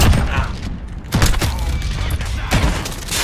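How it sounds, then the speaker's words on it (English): Desert Eagle shots at close range in the video game Modern Warfare, a few heavy booming blasts spaced about a second apart amid loud game noise, with players talking. "A deagle in close range."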